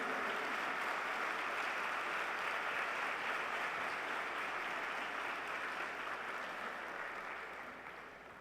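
Steady applause from a crowd at a formal ceremony welcoming a cardinal and other dignitaries, a broad even wash of clapping that holds, then gradually fades toward the end.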